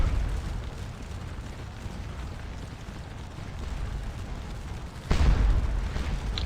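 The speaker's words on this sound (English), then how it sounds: "They're just firing canister right into them." Cannons fire canister shot in the Napoleonic battle game Scourge of War Waterloo, a deep rumbling battlefield bed with one sharp, heavier boom near the end.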